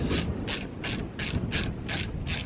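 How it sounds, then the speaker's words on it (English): Hand ratchet backing out the ignition coil bolts on an old jet ski, a steady run of seven evenly spaced ratcheting clicks, close and clear with no talking. "I'm just removing the bolts on all the coils real quick."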